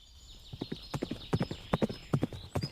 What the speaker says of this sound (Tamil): குதிரைகள் காரமலையினுடைய சரிவு பாதையில தென்புறம் நோக்கி போய்கிட்டு இருந்துச்சு.